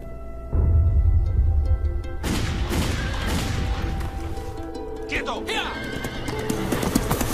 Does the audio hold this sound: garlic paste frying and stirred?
no